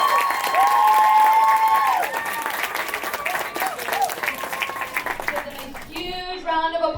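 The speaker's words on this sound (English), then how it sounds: "Huge round of applause." Audience applause at a wedding celebration, steady dense clapping from a crowd with some cheering, mixed with a sustained tone early on and fading toward the end under a few other sounds.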